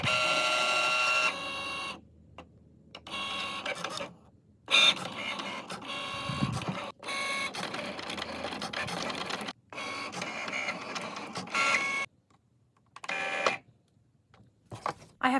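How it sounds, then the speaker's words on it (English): A Cricut Maker cutting coral reef colored vinyl on a mat, whirring and chattering in close bursts of motor movement separated by short quiet pauses. "I'm going to load it into my Cricut maker."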